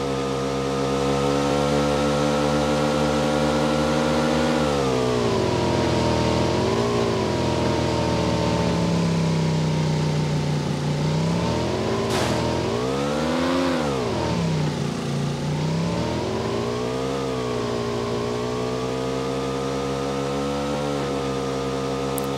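Car engine in PUBG Mobile, loud and close: a continuous drone whose pitch rises and falls repeatedly as the vehicle revs and accelerates while driving, with no voices over it.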